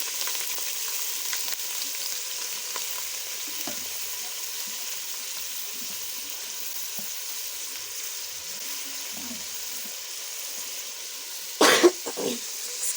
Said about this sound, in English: the cooking oil will be preheating here before I add the sardines